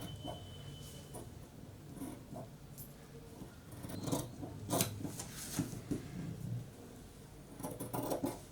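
Scissors cut fabric pieces for the front of a body frock for a 2 to 3 year old baby, making close, intermittent rasping snips and slides with short pauses and no talking.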